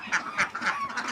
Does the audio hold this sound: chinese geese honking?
yes